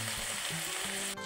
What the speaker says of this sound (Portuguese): eu tô refogando ele antes de colocar o peito do frango